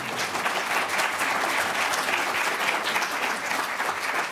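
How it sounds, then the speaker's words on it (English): A debate audience gives a round of applause, a dense, even wash of clapping that holds steady from start to finish with no talk over it. "Can we have a round of applause?"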